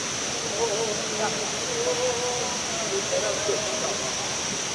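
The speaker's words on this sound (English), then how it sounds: "there's the waterfall over there" Kuang Si Falls in Laos, with its waterfall heard as a distant, steady broadband rush. Faint scattered voices and sounds from people nearby sit over the water.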